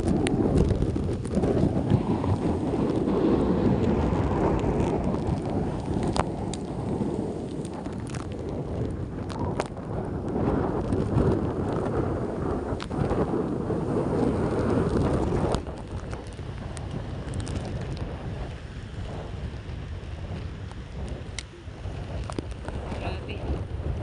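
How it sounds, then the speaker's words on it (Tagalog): Strong super typhoon wind roars steadily into the microphone for the whole stretch, with heavy buffeting and gusts, dropping slightly in intensity partway through. "sobrang lakas ng hangin"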